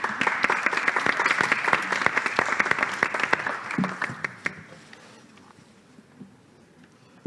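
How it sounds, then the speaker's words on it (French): A room of people at a startup pitch event applauds: brisk, dense clapping for about four seconds that thins out into scattered claps and faint murmur. "On peut l'applaudir."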